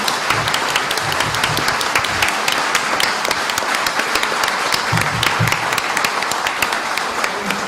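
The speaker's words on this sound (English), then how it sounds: "Let's give a quick round of applause for all of our candidates up here tonight." Audience at a chamber of commerce mayoral forum applauds the debate candidates, with steady, dense clapping that continues loudly and without a break and has no talk over it.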